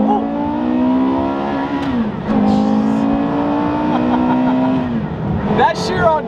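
A Mirage GT and a Bugatti Chiron driving through New York City, heard from inside the Mirage: a loud engine drone that rises and falls as the cars accelerate, with people talking over it.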